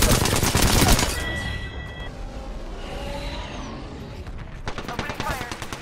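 Video game gunfire: loud rapid bursts open the scene, then a quieter stretch of shooting and game noise follows before dense firing returns at the end.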